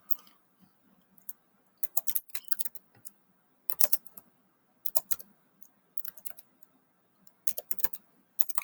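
Someone types a name into a Google Sheets cell on a computer keyboard, producing quiet clustered bursts of light key clicks with short pauses between words.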